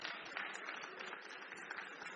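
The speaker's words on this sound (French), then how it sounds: "Je vous propose de les applaudir." A conference audience applauds at a silver economy fundraising event, a dense, continuous patter of many hands clapping, heard somewhat distant and fairly quiet.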